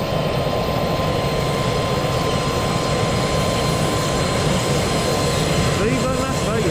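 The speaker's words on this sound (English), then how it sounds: "Here are all the private planes." A steady, loud jet-engine roar from private planes at a Las Vegas airport, continuous and unbroken throughout, filling the whole soundscape.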